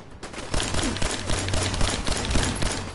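Automated turret gunfire in the Fallout 4 video game, a loud sustained rattle of rapid shots with dense overlapping bursts, starting after a brief quieter moment and continuing without voices.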